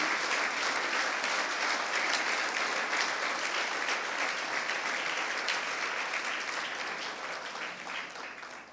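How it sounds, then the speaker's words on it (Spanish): A church congregation applauds during a Pentecost service, sustained dense clapping from many hands that holds steady for several seconds, then fades slightly toward the end. "¿Cuántos dan un fuerte aplauso en honor al Espíritu Santo en esta mañana?"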